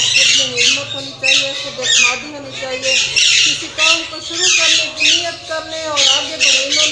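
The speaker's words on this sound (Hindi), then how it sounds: "लाखों में इनके तोते बिकते हैं" Pet parrots raised and sold as a home business squawk in repeated harsh bursts close by, with someone talking steadily over them throughout.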